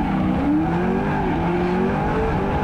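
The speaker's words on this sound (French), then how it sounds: "On entend un peu son turbo." Drift car at a competition run, a sustained engine and turbo whine rising and falling in pitch, fairly loud and continuous with crowd-like background wash.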